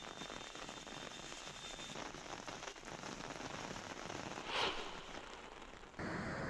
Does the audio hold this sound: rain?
yes